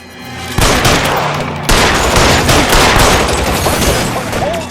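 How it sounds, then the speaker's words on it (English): Heavy gunfire in a shootout in LA Noire Remastered, loud sustained volleys of overlapping shots starting abruptly and continuing without a break, close and intense. "Oh my god, we got ourselves another shootout."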